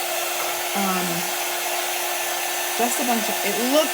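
A hair dryer blows in a steady close whine while drying chalk paint on a custom T-shirt, with someone speaking over it.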